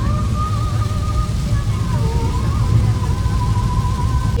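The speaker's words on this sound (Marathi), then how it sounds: "परत पाणी चांगला जोरात पाऊस चालू आहे." Heavy rain falling during a family car trip on a highway, a dense, steady wash of noise throughout with faint thin whining tones riding over it.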